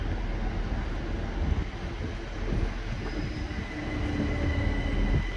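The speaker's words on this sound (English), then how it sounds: "some Southwestern 450s in the background." South Western Railway class 450 electric trains pass in the background, a steady low rumble of wheels and motors with faint squeals, moderately distant and continuous.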